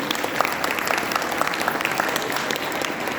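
A crowd claps steadily and enthusiastically to welcome children performing at a religious festival's cultural program, a dense patter of applause at moderate distance that continues throughout.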